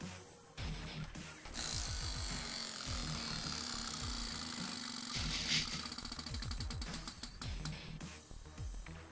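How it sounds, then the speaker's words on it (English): A prize wheel spinning, with a fast run of clicking ticks that gradually slow down over a constant hiss and a low hum, with no talking. "bring in the wheel and give it a spin"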